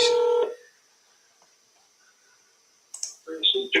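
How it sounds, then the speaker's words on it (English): Telephone dialing for an outgoing call: a loud steady tone cuts off, then after near silence a quick run of short dial beeps and clicks returns near the end. "y'all are getting a phone call"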